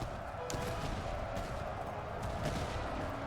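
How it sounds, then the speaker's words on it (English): Musket volleys crackle from massed infantry in the Master of Command video game, faint and distant over a constant battlefield rumble, with a few scattered sharper reports. "we got a volley off"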